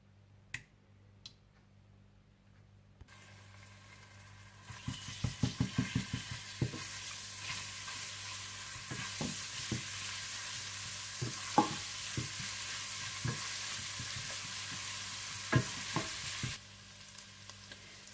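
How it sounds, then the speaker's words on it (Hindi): Whole cumin seeds with ginger garlic paste frying in hot oil, a steady soft sizzle with sharp pops and crackles scattered through, stirred in a pan, fairly quiet and close. "इसमें आप डाल दें साबुत जीरा और 1 टेबलस्पून अदरक लहसुन डालकर अच्छी तरह से भून लें।"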